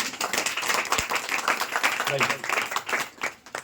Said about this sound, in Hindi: इन दोनों लोगों के लिए भी एक बार बढ़िया से तालियां बजाइए।